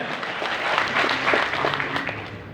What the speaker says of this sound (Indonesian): Berikan aplaus yang meriah untuk Bapak dan Ibu semuanya